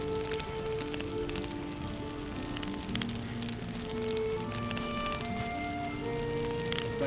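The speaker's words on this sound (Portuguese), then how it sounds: "Tá chovendo." Rain falling in the Valheim video game as night comes on, a steady broadband patter with scattered drop ticks, continuous and moderately quiet, layered with ambient game tones and no speech.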